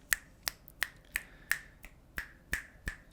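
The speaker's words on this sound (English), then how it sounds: "here we can do a quick little snap test" Finger snaps recorded on a Movo UM700 USB microphone: nine crisp, close snaps in a steady rhythm about a third of a second apart, with quiet room tone between and no talking.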